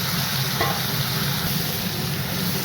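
Steady sizzling of prawns frying in hot oil, close and continuous, with a brief clink of stirring near the start.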